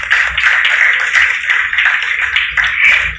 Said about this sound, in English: I think once again we should go ahead with a big round of applause.